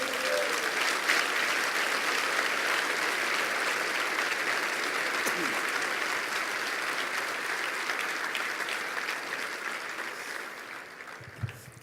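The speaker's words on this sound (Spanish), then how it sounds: "¿Cuánto da un aplauso a Dios?" A church congregation applauds during a sermon, with steady, dense clapping that carries on for about ten seconds before thinning and fading out near the end.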